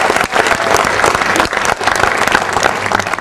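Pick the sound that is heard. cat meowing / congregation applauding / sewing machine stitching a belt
congregation applauding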